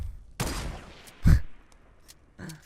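Sniper rifle shots in a Fortnite match, two sharp reports about a second apart, the second louder and heavier, followed by fainter clicks and a smaller pop.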